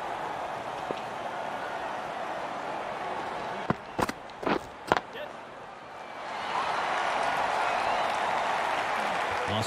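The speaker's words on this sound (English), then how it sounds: "The crowd are on their feet, cheering their home team hero to complete his hat trick" A Don Bradman Cricket video game crowd roars in a broad, sustained wash of cheering and applause. A few sharp knocks sound partway through, then the noise swells again as a commentator's voice talks over it.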